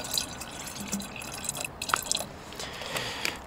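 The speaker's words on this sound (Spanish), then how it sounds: "Vale, va. Un poquito de agua." A little water trickles and drips into a garden sprayer, a few soft splashy drops against quiet room noise, with no talking.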